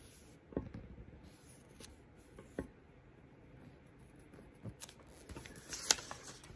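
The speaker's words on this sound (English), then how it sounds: "Trace the second piece." A pencil tracing a clog pattern onto leather makes faint, soft scratchy strokes near the mic, with a few sharper taps and rustles scattered through a quiet room.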